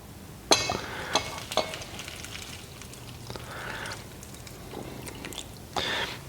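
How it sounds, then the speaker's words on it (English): Onion ring batter with milk being whisked in a bowl: soft, intermittent wet stirring with a few sharp clinks of utensil on bowl, fairly quiet and with no talking. "we'll mix this batter till it's nice and smooth and creamy"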